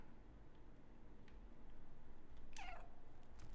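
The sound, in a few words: cat meowing in a video game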